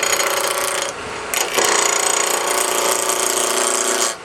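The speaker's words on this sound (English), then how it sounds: "Let's turn some wood." Wood spinning on a lathe for a small screw-top lid as a freshly sharpened tool takes cuts, giving a loud, steady scraping whir that briefly drops out and then resumes.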